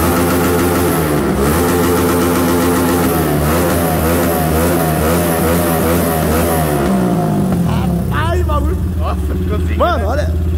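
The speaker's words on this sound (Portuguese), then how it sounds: "O Neguinho vai mostrar pra vocês agora a moto, como que ela tá" A Honda Start 160 motorcycle engine with modified valves and camshaft revs loudly and steadily up close, rising and falling in pitch, then settles into quicker blips of throttle.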